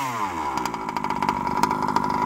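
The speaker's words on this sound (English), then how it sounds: "listen to that idle" Losi 5T RC car with a small two-stroke engine and tuned pipe idles close by, a buzzy, slightly uneven putter with a rapid pulsing rhythm.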